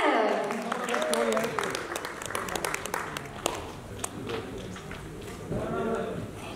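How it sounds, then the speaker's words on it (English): A crowd applauds with dense, steady clapping and some cheering at a film promotional event, a loud announcer's voice talking over it. "could we please give it up and have a huge round of applause"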